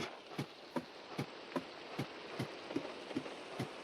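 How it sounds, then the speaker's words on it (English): Steady rain noise from a video game about farming dye, a constant hiss with soft, evenly spaced drops or taps roughly every half second, heard alone at a moderate, distant level. "rain is really loud."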